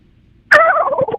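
A man on a phone call imitates a turkey gobble with his voice, a sudden loud, warbling burst lasting under a second after a moment of quiet line noise.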